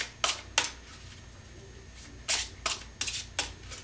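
Tarot cards are shuffled by hand in quick crisp riffles and flicks, several sharp bursts close by with short pauses between.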